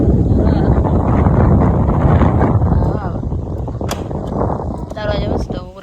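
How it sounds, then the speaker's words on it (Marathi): Strong wind buffets the microphone outdoors in a steady, loud roar of low rumble and gusts that dip and swell, with faint voices underneath. "तिथं वारा एवढा सुटले"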